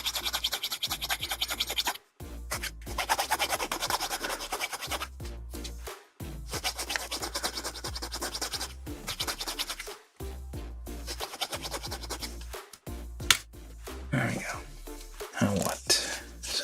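A part from a 1/144 HG Bandai Gunpla kit of the MSM-04 Acguy is rubbed very fast without pressure, making loud, rapid scratching in long bursts separated by short pauses, with speech heard over it.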